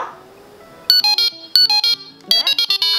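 A Delkim Txi-D fishing bite alarm gives three bursts of rapid high electronic beeps, each a quick run of four or five tones, loud and close after a brief quiet rustle.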